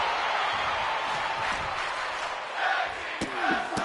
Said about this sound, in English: the crowd here in Italy saying tag team wrestling